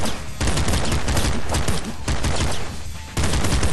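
Rapid automatic gunfire from a held trigger in the top-down shooter Nuclear Throne, a dense, continuous rattle of shots in loud bursts broken by brief gaps, with no talking.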